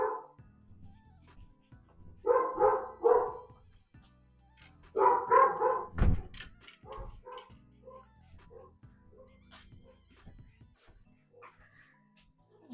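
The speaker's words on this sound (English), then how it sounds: "sorry about that. That is my dog again." A pet dog barks in a home sewing room, two loud clusters of close barks separated by a pause, followed by quieter yips and whimpers.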